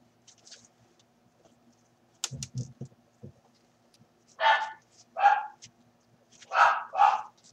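A female dog barks in a quiet indoor room, first a faint distant woof, then several loud separate barks in close succession after some soft handling noises.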